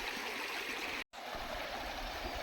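Stream water flows steadily past village fields, a continuous close rushing hiss broken by one very short gap, with no voices.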